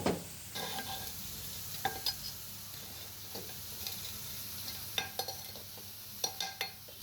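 Rice boils in a pot with a faint, steady bubbling hiss and occasional soft pops and ticks, quiet and with no voices.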